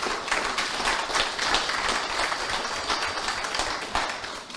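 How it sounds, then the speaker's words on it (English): At a public discussion about a severance protection fund, the audience claps to thank the committee members, giving a moderate, steady round of applause from a room of people that tapers slightly at the end. "let me ask you for a round of applause to thank my members of the committee."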